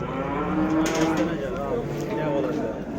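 Young heifers mooing repeatedly at a busy rural livestock market in Göksun, Kahramanmaraş, with overlapping low calls close by and steady crowd chatter underneath.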